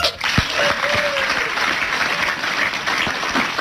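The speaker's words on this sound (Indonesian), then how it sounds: "Tepuk tangan untuk beliau" A crowd at a gathering bursts into sustained applause, dense clapping that holds steady throughout, with a few voices briefly audible beneath it.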